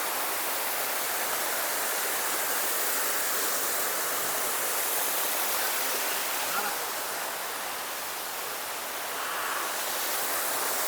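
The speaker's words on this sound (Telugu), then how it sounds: "ఇదిగో మొత్తం వాటర్ ఫాల్స్ వ్యూ." Munjuluru waterfall pours with a dense, steady roar of falling water that fills the whole scene, close and continuous, while a voice talks over it.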